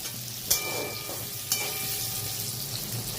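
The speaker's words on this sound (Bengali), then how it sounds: "আলুগুলো ভেজে নিই" Lightly salted potatoes fry in oil with a steady, moderate sizzle, broken by two sharp utensil clinks about a second apart, heard up close without speech.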